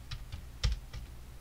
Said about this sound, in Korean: 프로그램 모니터를 클릭하고 한글로 자막이라고 타이핑 하실게요